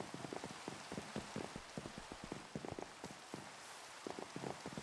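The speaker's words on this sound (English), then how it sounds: "It does rain a lot." Steady rain in the block-building game Minecraft patters densely and evenly, a soft continuous hiss with fine droplet ticks throughout and no voices.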